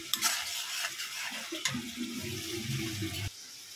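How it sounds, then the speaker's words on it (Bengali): Spice paste being stirred and fried in a pot for a salted hilsa and Malabar spinach curry, a close scraping and sizzling that runs steadily before stopping abruptly near the end. "এখন মশলাটা ভালো মতো আমি কষিয়ে নেব।"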